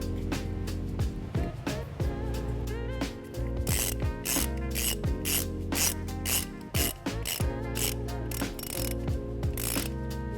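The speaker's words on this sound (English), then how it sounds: "place it over this positive stud, and then put the nut back on to secure it" A ratchet wrench tightens a nut onto the positive battery stud during a trailer wiring harness install on a 2014 Nissan Sentra, repeated rapid clicking strokes up close with brief pauses between bursts.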